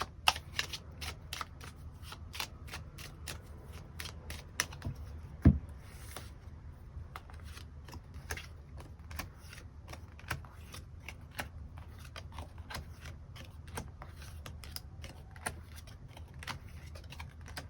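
Tarot cards are shuffled and drawn in a quiet room, with rapid papery riffles and soft flicks coming in bursts, plus one sharp tap partway through, and no talk.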